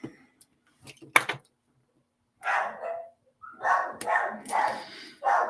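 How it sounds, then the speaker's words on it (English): Dogs bark outside in separate bursts, a couple of sharp yaps first, then a run of steady, mid-distance barking with brief pauses between. "Sorry about those barking dogs."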